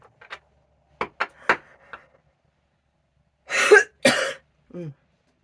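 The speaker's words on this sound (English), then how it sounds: "I want to keep coughing." Several short, sharp coughs come close together, followed by a pause and then two harsher, louder coughs and a brief throaty sound.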